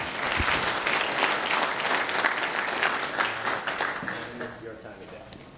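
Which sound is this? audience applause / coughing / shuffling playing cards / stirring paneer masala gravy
audience applause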